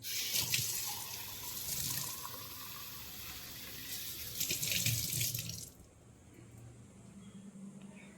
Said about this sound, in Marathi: तुळशीला पाणी घालूया